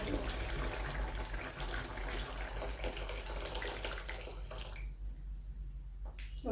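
Water is poured into a simmering pot of spinach garagat, a steady rushing pour lasting about five seconds that then stops, leaving a quieter kitchen.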